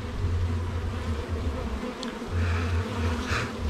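Honeybees buzz steadily in an opened hive during honey harvesting, a dense close drone that swells and dips with a couple of brief higher whines.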